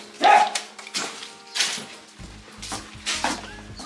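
A few sharp dog barks and yips burst out at irregular intervals, fairly close, with quiet kitchen clatter between them, at feeding time in a farmhouse kitchen.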